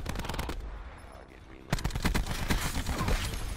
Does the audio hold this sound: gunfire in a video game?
yes